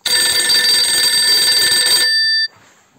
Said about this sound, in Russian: Мама что-то звонит.